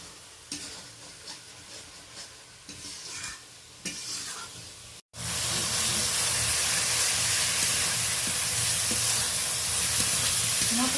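Spice paste fries in oil for a bhetki fish curry with bori and cauliflower. Soft stirring scrapes come first, then a loud, continuous sizzle suddenly takes over and holds steady close by.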